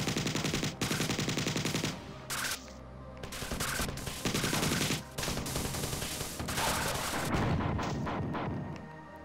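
Rapid bursts of alien weapon fire in the Bungie shooter Marathon, loud and continuous, with short pauses between volleys and no talking.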